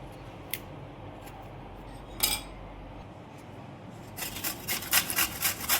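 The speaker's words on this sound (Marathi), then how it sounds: "वरचा भाग आपण कट करून घेऊ, कारण याला माती लागलेली आहे" A knife slicing the soil-covered top off a piece of fresh ginger, giving a few short scraping cuts and a brief crunch, then a quick run of rhythmic cutting strokes near the end, close and fairly quiet.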